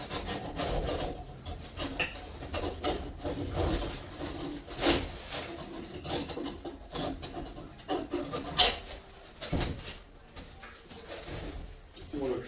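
Polystyrene ceiling panel being trimmed during a ceiling installation, with repeated scraping, rubbing cuts in an irregular rhythm, close and moderately loud, alongside scattered knocks and handling noise.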